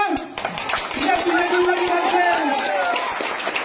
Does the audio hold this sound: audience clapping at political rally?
yes